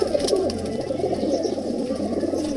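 Pigeons coo steadily from rooftop cages in a village near the India–Pakistan border, a dense overlapping murmur of soft calls held close and continuous throughout.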